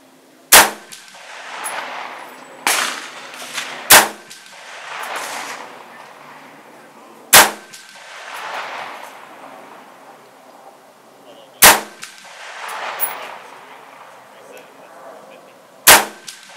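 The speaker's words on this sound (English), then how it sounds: "Let's put some rounds down range." Six sharp rifle shots of hand-loaded rounds at an outdoor range, spaced a few seconds apart, each followed by a faint ring of the bullet striking a steel target downrange, with no talking.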